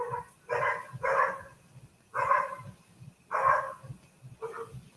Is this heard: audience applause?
no